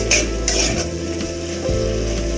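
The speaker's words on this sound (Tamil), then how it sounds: "கருவேப்பிலை இதெல்லாம் போட்டு இன்னும் ஒரு 2 நிமிஷம் நல்லா வேக விடலாம்." Curry leaves, coriander leaves and sambar powder sizzle steadily in a pan while a spoon stirs and scrapes against it, cooking for an eggplant kadayal side dish; the frying is close and continuous, with no voices.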